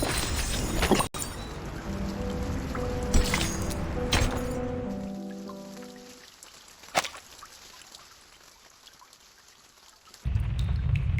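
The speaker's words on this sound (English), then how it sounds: "It's the rain! It's raining outside!" Rain falls outside in the video game Reverse: 1999. A steady broadband hiss rises as tonal music fades, with one sharp knock partway through, and a louder burst of noise comes in at the end.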